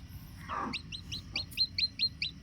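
Newly hatching country chicken chicks peep from under a brooding hen, a quick run of about eight high, evenly spaced chirps following a brief soft cluck, close and fairly quiet.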